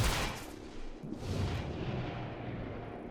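A heavy gunshot from the video game XCOM Chimera Squad, a loud, booming blast at the start that rolls into a long rumbling decay, with a second swell partway through and no voices.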